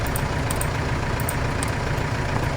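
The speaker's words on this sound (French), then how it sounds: "mais c'est quoi ce tracteur de fou?" A tractor engine idling in the farming video game Farming Simulator 25, a steady low rumbling drone that stays loud and even throughout with no talk.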